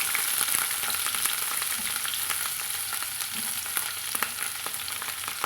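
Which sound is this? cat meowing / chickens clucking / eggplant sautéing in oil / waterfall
eggplant sautéing in oil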